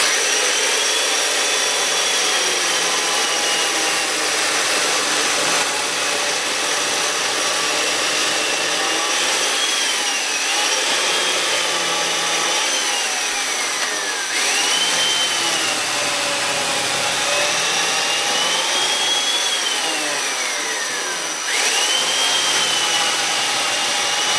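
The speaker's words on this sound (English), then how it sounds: "we have a chain here that's going to plunge down in, and it's going to cut our mortise for us" A chain mortiser plunges into wood to cut a square mortise, producing a loud, continuous motor whine whose pitch sags and recovers as each cut is pushed down and lifted.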